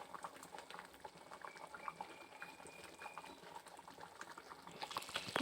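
Moong dal with fish head boiling in a pot, a soft, steady bubbling and popping heard close up, faint but continuous.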